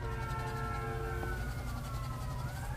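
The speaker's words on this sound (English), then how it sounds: "And more sirens again, man." Emergency vehicle sirens wail at a distance, several sustained tones sliding slowly in pitch over a steady low rumble, with no talk.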